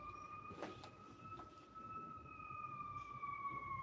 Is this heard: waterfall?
no